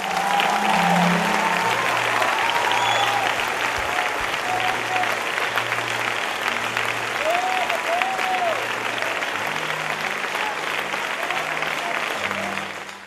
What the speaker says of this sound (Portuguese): eu quero ver você dar uma salva de palmas a Jesus